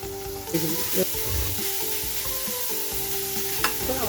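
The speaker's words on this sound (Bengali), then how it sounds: "রসুনটা একটু ভাজা হয়ে এসছে, এবার আমি পেঁয়াজ কুচিগুলো দিয়ে দিলাম।" Finely chopped onions and garlic sizzle steadily in hot oil for a chicken kosha curry, a dense continuous frying hiss with a few stirring scrapes, close and fairly loud with no talking.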